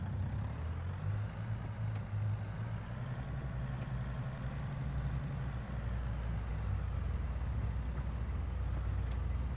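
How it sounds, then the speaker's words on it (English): A heavy truck engine in Farming Simulator 22 rumbles steadily and low throughout during wheat harvest, a continuous droning hum with no pauses or voices. "let's bring the truck down"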